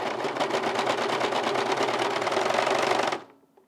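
A sewing machine runs steadily for about three seconds, stitching through waxed canvas for a backpack, its rapid needle rhythm loud and close before stopping abruptly into near silence.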